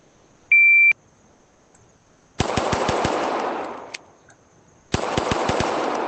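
Gunfire in the ACE VR shooting range game: a short beep, then five rapid shots, a pause with a reload click, and five more rapid shots, loud and close with ringing tails.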